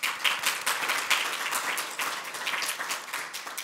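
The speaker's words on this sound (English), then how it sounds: "So let's give a huge round of applause to Drupal community and each one of us." A conference audience at a Drupal community event in Vienna claps together in a steady, moderately loud burst of applause lasting a few seconds, with no voices over it.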